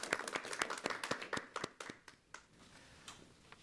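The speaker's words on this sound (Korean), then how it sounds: "여러분 다시 한번 박수 보내주시죠" Scattered audience clapping for a jockey at a horse-racing cup interview, a handful of sharp, distinct claps in quick succession that thin out and fade to a few isolated slaps.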